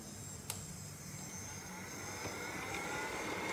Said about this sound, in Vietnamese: để mở cái máy hút bụi lên mình